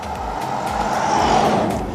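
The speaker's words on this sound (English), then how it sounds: "Let that car go by." A car passes by on a rural road in Selle Valley near Sandpoint, a broad, fairly loud rushing swell that rises toward the middle and fades slightly, heard alone without speech.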